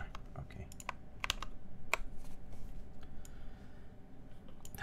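Fingers type on a KBD75v2 custom mechanical keyboard, giving a fast, uneven run of crisp clicks and clacks at moderate volume over faint room noise.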